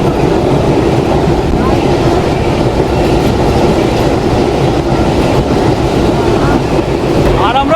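Mongla Commuter train running near the Rupsa railway bridge in Khulna, a steady loud rumble with rhythmic clickety-clack of wheels on rails throughout, heard from onboard, with faint voices now and then.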